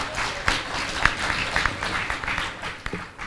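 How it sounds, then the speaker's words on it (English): Delegates at a regional parliamentary executive committee meeting applauding, moderate clapping at a middle distance with a few sharper claps and some uneven swells in a large room. "I think that deserves a better round of applause"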